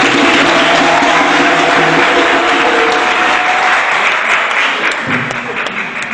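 Loud, dense applause from a sizable audience fills the room, steady at first and then thinning toward the end.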